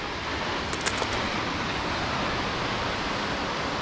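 A waterfall at the end of a forest trail, seen from straight in front of it, rushes steadily as dense broadband roar close by, with a couple of faint brief clicks early on and no speech.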